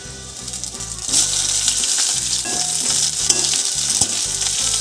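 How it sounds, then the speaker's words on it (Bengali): Chopped onion fries in oil in a pan after garlic, giving a continuous close sizzle with occasional spoon scrapes and pops, fairly loud and steady, with no talking. "পেঁয়াজটা ভালো করে একটু কিছুক্ষণ ধরে ভেজে নেব"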